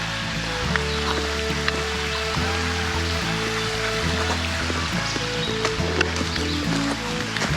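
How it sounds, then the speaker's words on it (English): Rushing water from a stream approaching Hemmed-In Falls in Arkansas, a steady broadband hiss with small splashes, heard alongside a low, droning hum that runs under it. "I hear water and seawater, so that means I am getting close to the falls."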